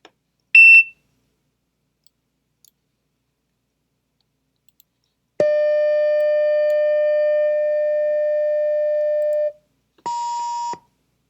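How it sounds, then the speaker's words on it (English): A short high beep, then a long steady tone lasting about four seconds, and finally a brief higher bleep, each separated by silence. "I like the censor beep, and that's exactly what we're looking for"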